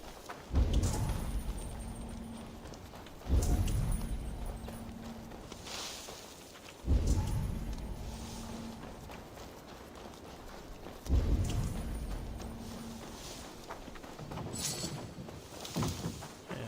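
Heavy thudding hoof impacts come in clusters every few seconds, with rumbling and a faint tone between them, as a horse gallops along in Assassin's Creed Valhalla.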